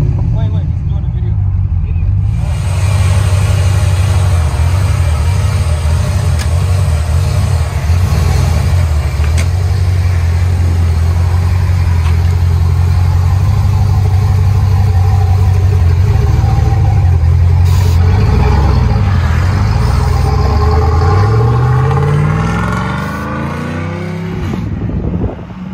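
Modified exhaust of a GMC Sierra with a 6.0-liter Vortec Max V8 fitted with two high-flow catalytic converters, a loud steady deep rumble that swells and revs near the end, with voices talking over it.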